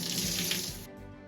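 Shower water runs steadily and close while hair is rinsed, a full broadband hiss that drops away abruptly near the end, leaving a quieter trickle.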